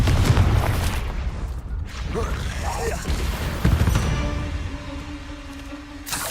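Blasting curse explosions in the Hogwarts Legacy video game: loud booming bursts with crashing debris and rumble over a dense game soundscape, with a voice talking over the action.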